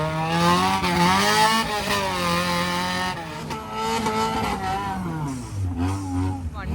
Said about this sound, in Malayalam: സോ വണ്ടി നേരെ എന്തായാലും പിറ്റിലേക്ക് അപ്രോച്ച് ചെയ്ത് വരുവാണ്